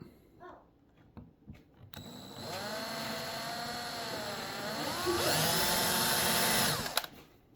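A power drill bores out a rivet on the gas shutoff valve of a 1956 Ford 601/641 Workmaster tractor in a shop. A few light clinks come first, then a loud, close, whining drill runs steadily for about five seconds, its pitch dipping under load before stopping.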